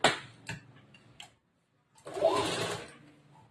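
A sewing machine stitches an A-line kurta from polyester fabric: a few short, separate bursts of motor whirring, then a longer steady run of stitching after a brief silence, close by with no talk.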